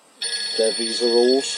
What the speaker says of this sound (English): that's a phone call from Bar